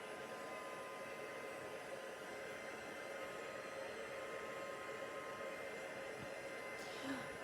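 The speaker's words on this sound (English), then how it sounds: "So then you want your heat tool" A heat tool blows steadily over a wet watercolour background in a craft room, a constant broadband whoosh like a hair dryer running close and unbroken throughout.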